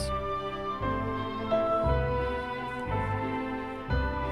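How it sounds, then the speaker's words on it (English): A Casio Privia PX-770 digital piano plays its demo song: sustained piano chords and melody notes over rolling bass, with changes every second or so, continuous and clear, with no talk. "when the piano part comes in, you will hear piano."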